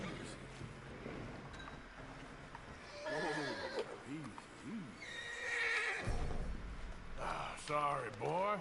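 A horse in the video game Red Dead Redemption 2 neighs and whinnies several times, with wavering calls repeating over a few seconds alongside hoof clops and someone talking.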